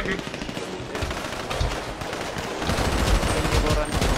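Gunfire rattles through a GTA 5 roleplay shootout at a mansion, with dense, fast automatic bursts running continuously and loudly, piled over one another amid busy game noise.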